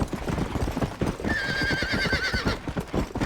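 A horse in the video game Red Dead Redemption gives a loud, close whinny with a wavering pitch lasting about a second, over steady clip-clop hoofbeats that run throughout.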